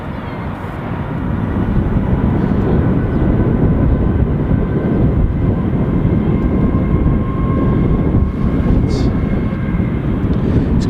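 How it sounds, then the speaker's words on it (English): An airliner on approach to Southend Airport makes a steady, broad engine roar that swells early and then holds loud and constant, with faint traces of voices in the background. "That should be the aircraft."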